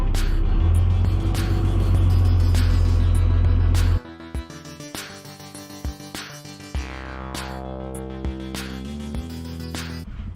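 A truck's diesel engine idles loudly and then drops to a lower running rumble as the truck is put into reverse, with clunks and occasional knocks close by.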